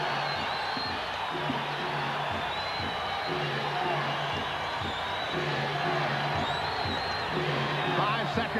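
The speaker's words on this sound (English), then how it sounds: "they've got the crowd very much into it now" Crowd noise from a late-1980s NBA basketball arena during a Lakers–Hawks game, a steady roar and cheer swelling beneath ongoing commentary.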